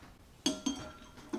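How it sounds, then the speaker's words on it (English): A spoon clinks against a bowl while stirring jelly cubes to dissolve them, three or four light, close ringing taps at irregular intervals with no talking. "keep stirring, waiting for the jelly to melt"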